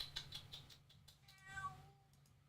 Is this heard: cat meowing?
yes